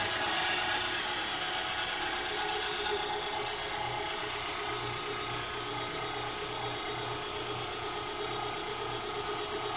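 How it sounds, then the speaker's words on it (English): Meat grinder running steadily as its blade cuts meat and fat against the grinder plate for homemade hot dogs; a continuous loud mechanical whir with ratcheting, gear-like churning, no speech. "as this blade is in here cutting against this grinder plate, it's reducing our meat and fat particles again and again"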